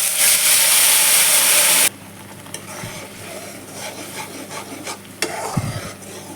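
Ginger, garlic, onion and tomato paste with spices frying in a pan for a home lunch, opening with a loud sizzle that drops off, then steady scraping and stirring with occasional clinks.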